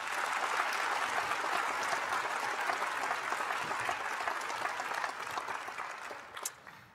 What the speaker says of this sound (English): Let's give Carly one more round of applause.